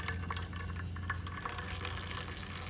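Fresh water poured into homemade paneer in a pot on a low gas flame, a faint, steady trickle and splash that is quiet and close, with no talking.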